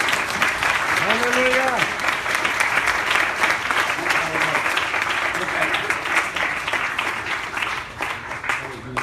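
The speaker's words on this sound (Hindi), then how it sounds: "कब के तालियां लगे प्रभु का धन्यवाद" A church congregation claps steadily and at length, a dense, continuous applause that fills the room, while a voice calls out over it near the start.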